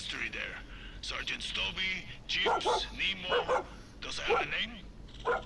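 A dog in the video game Far Cry 6 barks and yips in short bursts with whimpering between them, heard clearly amid game sounds while people speak.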